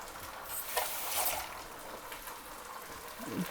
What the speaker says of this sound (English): so we'll put in the tomatoes